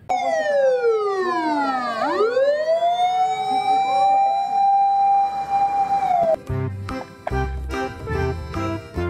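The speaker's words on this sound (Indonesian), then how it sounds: "Wow, ada mobil ambulan." A loud ambulance siren wails, sweeping down and up in pitch, holds a steady tone, then cuts into a rapid alternating siren pattern, close by.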